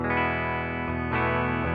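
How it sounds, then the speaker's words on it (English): An electric guitar played through a NUX MG300 MKII modelling a Deluxe Reverb amp rings out in sustained chords that shift twice, with a clean, harmonically rich tone heard alone. "So here's our tone right now, just the deluxe reverb"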